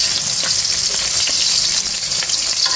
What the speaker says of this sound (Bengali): মাছটা উল্টে পাল্টে ভেজে নিচ্ছি আর একদম একটু কড়া করে ভেজে নেব।